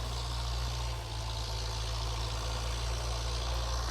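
A tractor engine drones steadily while ploughing virgin soil with a plough, a loud low hum that holds constant without a break.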